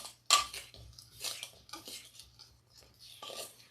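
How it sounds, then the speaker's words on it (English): Dry ingredients of coconut flour, tapioca flour, xanthan gum and salt being mixed in a bowl for tortillas, with a utensil giving a few sharp clinks and scraping strokes against the bowl, close and fairly quiet, with no talking. "now I'm going to mix them together"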